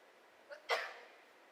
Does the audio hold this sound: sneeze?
yes